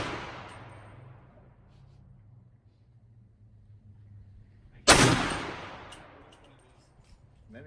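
AR rifle shots at an outdoor shooting range, one sharp, loud report ringing out with a long decaying echo after a fading earlier blast.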